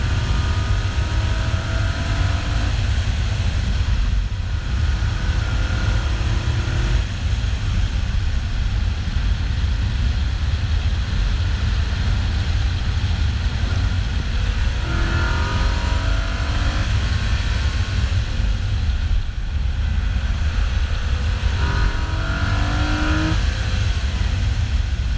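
A Nissan 280ZX driven briskly down a road, its engine droning steadily with gear-change shifts and rising revs under constant road and wind rumble, close and loud throughout with no talking.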